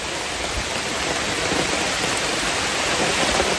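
Heavy rain falls during a hike as a dense, steady hiss that stays loud and unbroken, with no voices.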